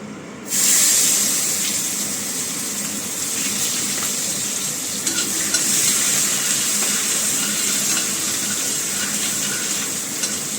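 Onions frying in a pan, with a loud, dense hiss that starts abruptly and holds steady throughout, with faint stirring noises underneath.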